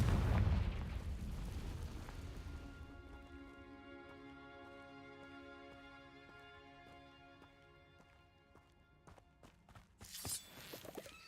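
A Confringo spell bursts in Hogwarts Legacy with a loud, close explosive blast at the start. It decays into ringing magical tones, and a second sharp crackling burst follows near the end.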